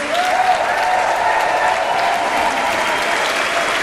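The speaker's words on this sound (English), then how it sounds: "Can you also give a cheer to our fantastic speakers?" A large rally crowd in London cheers and applauds for the speakers, a dense, steady wash of clapping and cheering that stays loud and continuous throughout.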